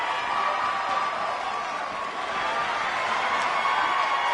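A large arena crowd in WWE 2K19 holds a steady, dense roar for the whole stretch, with no clear cheers or claps standing out.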